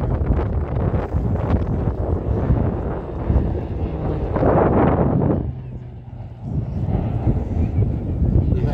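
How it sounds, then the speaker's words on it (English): A Pilatus trainer powered by a 950 horsepower PT6 turboprop passes overhead at an airshow with a broad, rushing engine drone that swells and fades, partly masked by wind buffeting and a commentator's voice. "powered by a 950 horsepower PT6 turboprop."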